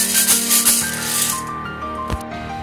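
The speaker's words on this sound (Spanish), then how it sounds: "Y este es el chucho." A chucho, the Colombian shaker percussion instrument, rattles in a steady, loud, hissing shake within tonal music, then drops back as the music carries on with a single sharp hit near the end.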